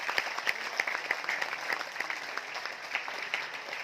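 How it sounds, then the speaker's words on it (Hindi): An audience at a seminar event in Mumbai gives steady, sustained applause, a dense even wash of many hands clapping throughout, heard at moderate distance with no talk over it. "एक बार आपकी जोरदार तालियां चाहती हूँ इस बेहद विशेष कीर्तिमान पर।"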